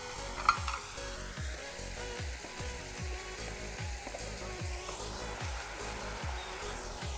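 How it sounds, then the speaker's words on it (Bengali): Grated tomatoes frying in a pan, a soft steady sizzle broken by regular rhythmic stirring strokes, close and fairly quiet, with no talk. "এগুলো দিয়ে একটু ভালো করে কষিয়ে নেব।"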